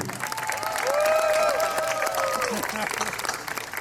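Audience applause for a string quartet at an outdoor city band concert, a broad wash of clapping with a voice and a sustained tonal sound rising over it midway.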